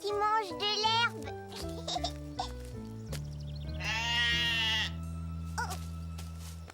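Sheep bleating, several wavering bleats over a light background melody, with a voice speaking nearby.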